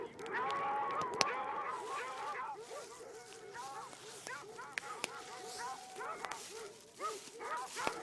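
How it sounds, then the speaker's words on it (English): Coon dogs barking, yipping and whimpering outdoors in the evening, a busy overlapping chorus of repeated yaps and howl-like cries at moderate distance, continuous throughout. "I don't want to hear all this yapping."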